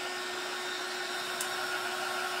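A handheld dryer blowing on a fresh coat of paint on a dollar-store DIY gumball machine, a steady close whooshing hum with a faint tonal whine and no voices.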